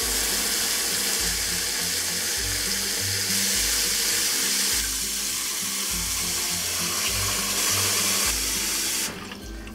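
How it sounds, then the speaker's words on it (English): Tap water pouring into a stock pot of chicken and pork bones for Cantonese soup stock, a loud, continuous gushing and splashing stream close by, cutting off abruptly near the end. "Now I'm just going to add water to the stock pot"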